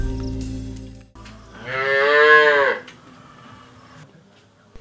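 A single cow gives a long, loud, close moo inside a cattle shed, rising and then tapering off, followed by quiet shuffling background noise and no talking.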